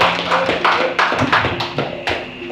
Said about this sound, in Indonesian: Tepuk tangan untuk Teh Leni.